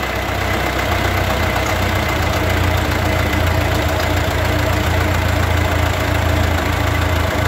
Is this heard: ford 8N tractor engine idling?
yes